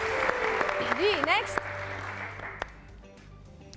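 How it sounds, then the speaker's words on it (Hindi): A television studio audience breaks into brief applause for Shah Rukh, a short burst that fades out quickly while a host talks over it. "बहुत सारी तालियां एकदम शाहरुख"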